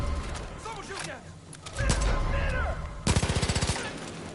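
Gunfire in the video game Far Cry 5: scattered shots, then a rapid automatic burst of around ten rounds near the end, loud and close, with a voice talking over the earlier part.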